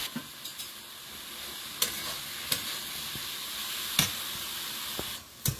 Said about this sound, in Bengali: মশলার সঙ্গে চিংড়িটাকে একটু ভেজে নিলাম।